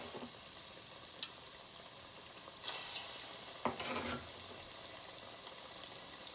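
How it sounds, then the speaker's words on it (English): Plantain pieces frying in oil, a faint, even sizzle close by, broken by a few brief louder bursts as pieces are moved or dropped in. "So we're gonna fry our plantain pieces"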